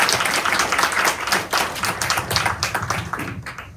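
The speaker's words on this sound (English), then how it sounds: "let's give them an applause for being here" An audience at an Appalachian Trail arts and culture festival panel applauds the panelists, a dense burst of close hand clapping that continues throughout and thins out toward the end.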